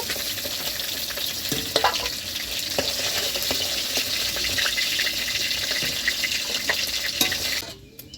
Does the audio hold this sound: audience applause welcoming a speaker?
no